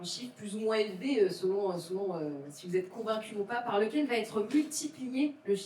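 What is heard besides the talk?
No distinct noise like a dog, phone or traffic.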